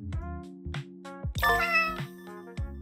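Repeated short cartoonish cat meows from the 100 Cats video game set in New York, several quick calls in succession over a steady musical tone, clear and close with no talk.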